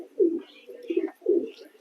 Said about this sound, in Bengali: এই যতগুলো পায়রা আছে এখানে।